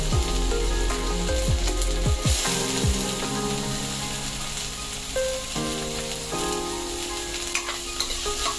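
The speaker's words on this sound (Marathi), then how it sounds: "तर त्याच कढईमध्ये आता आपण 2 चिरलेले कांदे हलकेसे भाजून घेऊया।" Two chopped onions fry and crackle in a kadhai, a continuous sizzle with occasional scraping and stirring, alongside faint background tones.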